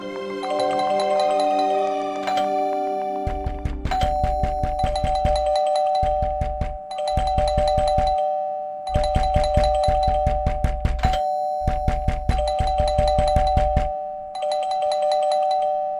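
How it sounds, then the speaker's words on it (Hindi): A doorbell chimes repeatedly in a drama scene, its bright electronic tones ringing in several bursts over a steady hum, with low thuds between them that may be knocking at the door. "बेवकूफ है, घंटी भी दे रहा है, खटखटा भी रहा है।"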